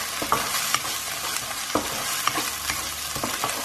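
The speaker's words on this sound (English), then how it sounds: "In goes the ginger and garlic. Give that a mix for about a couple of minutes" Ginger and garlic fry in a pan with a soft, steady sizzle, while a utensil stirring through them adds repeated scraping clicks. No voices.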